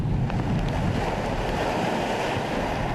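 Waves breaking one after another at Tai O in Hong Kong during Typhoon Tapah, a continuous loud surf roar mixed with gusty wind buffeting the microphone, with no voices.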